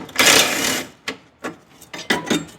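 A bolt being removed from a Nissan Sentra door, a close ratcheting buzz of a power tool for about a second followed by several short clicks and rattles as the bolt comes free.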